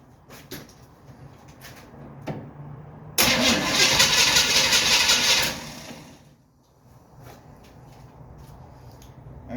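A 1937 Dodge engine cranks over with a few uneven chuffs, then catches in a loud, steady burst for about three seconds before dropping back to a quieter idle-like rumble with scattered clicks.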